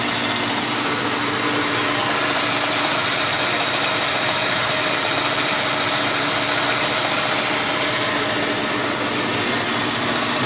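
An Atlas-Craftsman 12 inch lathe driven by a treadmill motor runs steadily, giving a constant loud mechanical whir and hum that holds unbroken throughout, close by, with no voices.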